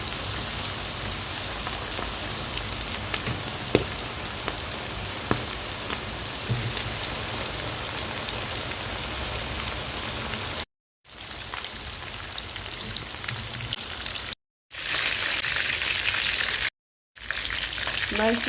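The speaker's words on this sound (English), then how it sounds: "Right now I'm going to start frying my chicken." Breadcrumb-coated chicken frying in hot oil, a steady dense crackle and sizzle continuing throughout with a few short breaks, close and even.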